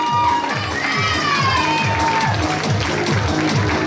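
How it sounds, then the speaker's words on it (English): Crowd applause and cheering at a bikini contest for over-40 competitors in Sydney, a steady wash of clapping and shouts, with loud music underneath and a bright voice sliding over the top. "Give her a big round of applause."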